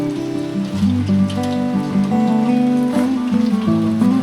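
Steady rain pours down near a waterfall trail during the rainy season, a dense close hiss of drops on surfaces running continuously with no talk.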